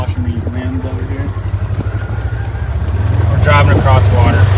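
A vehicle drives through water on a ranch, its engine a steady low drone that grows louder toward the end. Splashing and sloshing rise with it, and people talk over the noise.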